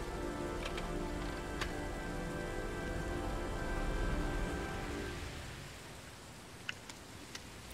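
Steady rain in the video game Heavy Rain patters on a surface alongside a low tonal hum, easing off later, with a few sharp ticks near the end.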